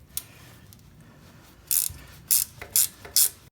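A hand ratchet works 7/16 bolts on a Tote Gote trail bike, with faint handling noise followed by four loud, close bursts of rapid pawl clicking at a brisk, even pace.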